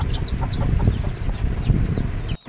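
Young chicks, only a few days old, chirp in quick, high peeps around a nest, with busy lower clucking and scratching beneath, close and fairly loud before a brief drop near the end.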